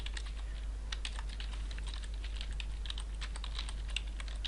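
Someone types steadily on a computer keyboard, a dense run of quick close clicks over a constant low electrical hum, with no talking.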